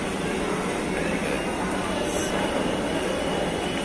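A Dhaka Metro Rail train rolls past with a steady rumbling roar and wheel noise on elevated track, constant and moderately loud throughout.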